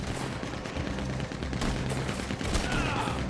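Gatling gun firing in Red Dead Redemption 2, a sustained rapid rattle of shots with denser bursts toward the end, loud and near amid game noise.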